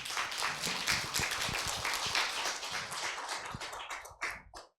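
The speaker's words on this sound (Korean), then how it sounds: "큰 환영의 박수 부탁드립니다." An audience in a lecture hall applauds to welcome a theology professor to the podium for a philosophy forum talk, with dense, steady clapping that thins out and stops near the end.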